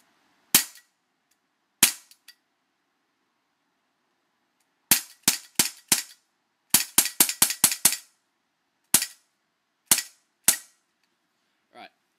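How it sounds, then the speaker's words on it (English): Walther CP99 Compact airsoft pistol firing BBs, sharp close snapping shots, a few single shots and then a quick burst of about seven, with gaps between, no talking. "I'm going to go ahead and shoot off a couple of rounds, and hopefully you guys can hear it."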